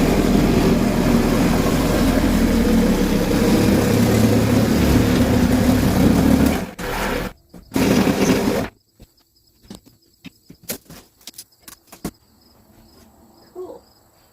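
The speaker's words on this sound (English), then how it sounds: "I'm going to Sawzall this." A reciprocating saw cuts through a houseboat ceiling section with a loud, buzzing, continuous rasp for several seconds, then stops abruptly, leaving scattered clunks and faint handling noises.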